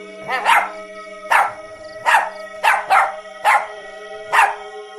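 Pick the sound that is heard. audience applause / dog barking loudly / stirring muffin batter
dog barking loudly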